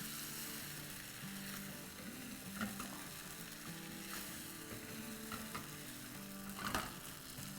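Chillies coated in besan and yogurt sizzle steadily in a hot frying pan, with soft scraping and clinking as the mixture is stirred throughout.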